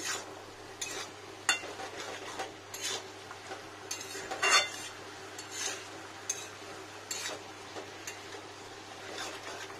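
Cabbage and potato stir-fried in a pan, with a soft sizzle under irregular scrapes and clinks of a spatula against the metal, some strokes sharper and louder than others, and no voices.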